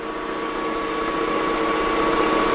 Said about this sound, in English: Now you'll find with the center drill, I'll go in, slightly back.